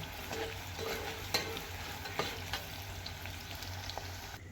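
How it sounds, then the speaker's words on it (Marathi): Onions fried crisp and golden in a pan for chicken biryani, a steady close sizzle with a few sharp pops and clicks from stirring throughout, no voices. "मला असं मस्तपैकी खरपूस आपण कांदा भाजून घेतलेला आहे"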